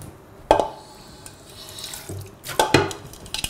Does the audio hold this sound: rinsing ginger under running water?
yes